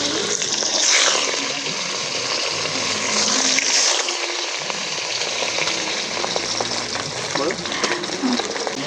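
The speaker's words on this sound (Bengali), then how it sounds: "এবার মাছগুলো ভেজে নেব।" Pieces of rohu fish fry in hot mustard oil in a kadai, giving a loud, continuous crackling sizzle that swells and settles without a break.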